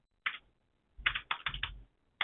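Keys clacking on a computer keyboard in short bursts: a single stroke, then a quick run of four or five, a pause, and one more tap, close and crisp in a quiet room.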